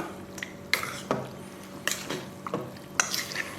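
Cooked spaghetti stirred into an egg filling for a spaghetti frittata: a series of wet, squelching turns and scrapes of a utensil against the bowl in an irregular rhythm, close and fairly quiet.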